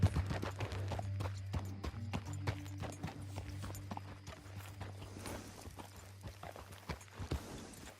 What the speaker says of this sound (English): What a horse you are.